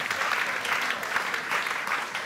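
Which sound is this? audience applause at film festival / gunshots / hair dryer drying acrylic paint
audience applause at film festival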